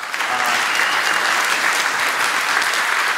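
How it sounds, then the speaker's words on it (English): Steady, dense audience applause fills a conference hall at the close of a three-day blockchain event, a continuous even roar of many hands with no pauses. "So please, one last round of applause for this occasion."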